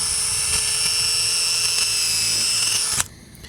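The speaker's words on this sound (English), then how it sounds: "chuck one of those up in your drill and then you pre-drill" A steady, high-pitched whine of a power drill pre-drilling a hole for a composite deck screw, running continuously for about three seconds, then cutting off abruptly, leaving a quieter background.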